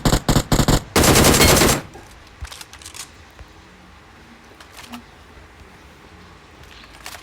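Gunfire in the mobile game PUBG Mobile: several sharp rapid shots, then a dense automatic burst of about a second, loud and close, followed by quieter scattered clicks and movement sounds.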